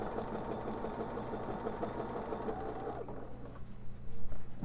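A sewing machine quilting a serpentine stitch across a baby quilt runs with a steady, close whirring buzz for about three seconds, then drops to softer rustling and handling noises.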